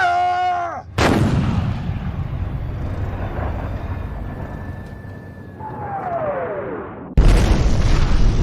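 A single heavy artillery gun fires at a vehicle, a loud close boom followed by a long rumbling decay and a falling whine, then another sharp blast near the end.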